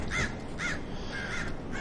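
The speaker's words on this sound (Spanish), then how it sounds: "Se oyen unos cuervos." Crows in a Tomb Raider Ireland level, with three or four harsh caws repeating at an even pace against low ambient game noise and no talking.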